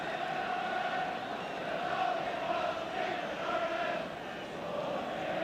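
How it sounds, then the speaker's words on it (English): A large football crowd chants during the 1993 Republic of Ireland v Northern Ireland match, a broad, sustained roar of many voices in the stadium that swells and eases slightly. "the crowd making the point that there's only one team in Ireland"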